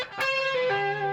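Electric guitar with distortion and effects sounding a major-thirds chord shape with an extra top note, two strums ringing out and sustaining, close and alone with no talking.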